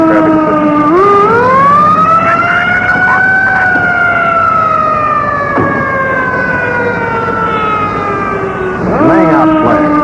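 A loud wailing ambulance siren sweeps slowly up and down in pitch, close by, with a brief yelp near the end.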